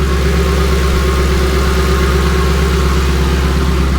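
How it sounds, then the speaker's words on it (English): A 1963 Ford F100 pickup's V8-style engine idles steadily and close by, a smooth, even low rumble with a constant throb and no revving. "The truck sounds way happier."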